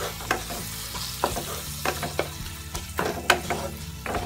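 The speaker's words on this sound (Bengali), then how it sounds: "এবার সবগুলোকে একটু ভালোভাবে ভেজে নিচ্ছি।" Chicken mince fries in a pan with cumin, chilli and turmeric powders and salt, a steady close sizzle broken by repeated scraping stir strokes; no talking.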